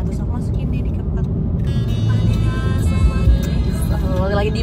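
Steady low rumble of a moving bus heard from inside the cabin, a constant engine and road drone filling the whole stretch, with people talking over it.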